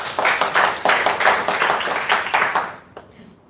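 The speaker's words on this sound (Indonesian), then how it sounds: "Kita berikan tepuk tangan buat Tuhan." A church congregation claps in a steady, fast rhythm for about three seconds before the clapping fades out.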